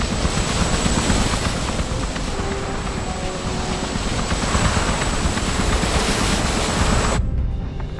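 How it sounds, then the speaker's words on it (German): Helicopter in the stealth video game Hitman (2016): a loud, constant rotor and engine roar with a steady whine, filling the scene for about seven seconds before cutting off abruptly. "Der Heli ist zu riskant"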